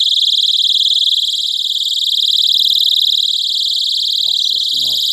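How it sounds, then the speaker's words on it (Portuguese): A personal safety keychain alarm, set off by pulling out its plug, shrieks with a loud, piercing, continuous electronic tone that runs unbroken throughout, with faint talk briefly underneath. "como é que isso funciona o alarme sonoro?"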